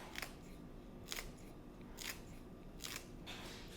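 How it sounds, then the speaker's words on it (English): Clean kitchen scissors snip fresh herbs over a strawberry pecan chicken salad, with four crisp, evenly spaced cuts close up over a quiet background. "use some scissors, clean scissors, and you can control the snip and just snip it in there"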